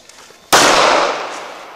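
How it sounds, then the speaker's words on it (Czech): A single sharp gunshot cracks close by, followed by a long ringing, slowly fading echo. "takže já to natáhnu a zkusím, jestli to střílí"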